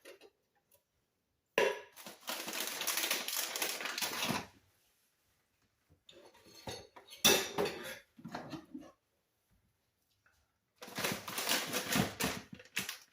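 Canned vegetables and their liquid are tipped undrained into a pot of homemade vegetable beef soup, making three separate bursts of splashing and clattering with quiet gaps between them.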